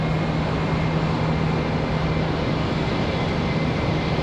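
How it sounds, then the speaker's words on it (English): Boeing 777 airliner arriving at Charlotte Douglas airport, a steady, even roar of jet engines with a faint low hum, constant in level throughout and heard from a distance. "Got another 777 coming in."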